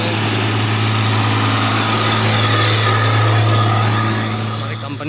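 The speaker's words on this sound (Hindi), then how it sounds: "बड़ा ट्रक वो दिखने को मिलेगा, बहुत जोर से शोर कर रहा है" A big truck engine on a hillside road, running hard and loud: a heavy, steady low drone with a strong rumbling hum that holds for several seconds, then eases slightly near the end, with someone talking over it.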